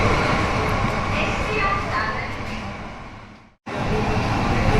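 A Mumbai Metro Line 3 train arriving at Dadar station rumbles steadily with a loud, continuous roar that briefly cuts out to near silence before resuming.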